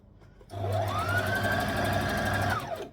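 A sewing machine runs a line of top stitching on a stretchy knit Tulip Tee hem, a close, loud, steady motor whir that starts abruptly and holds evenly for about two seconds before easing off.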